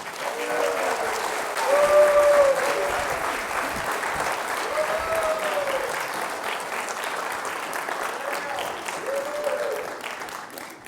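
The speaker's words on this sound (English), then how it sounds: "Please put a big round of applause together for Miss Gail Rubin." Sustained applause from an audience at a speech showcase, steady dense clapping throughout with a slight swell near the start, with a few faint cheering voices rising above it.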